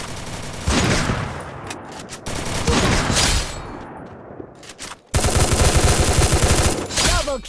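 Heavy gunfire in the mobile battle royale Free Fire, with dense bursts of automatic fire and rapid shot volleys that stop and start, loud throughout with brief gaps.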